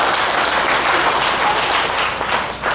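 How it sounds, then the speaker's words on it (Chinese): A church congregation at a Sunday service applauds, a dense, loud, steady wash of clapping that holds evenly and dips slightly near the end. "我们一起给上帝一个掌声"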